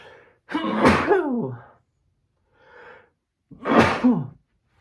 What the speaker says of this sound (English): Nothing like sneezing on my footage